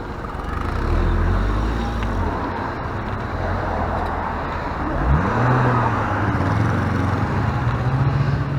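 Car accelerating hard across a junction on a road with traffic, a loud sustained engine roar from inside the cabin with a rising rev sweep midway and a steady drone continuing after.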